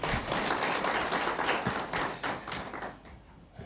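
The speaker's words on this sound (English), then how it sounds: "Another round of applause to the Archbishop." An audience applauds the Archbishop at a peacebuilding report launch in Nairobi, a dense wash of clapping that stays steady and then gradually thins out toward the end.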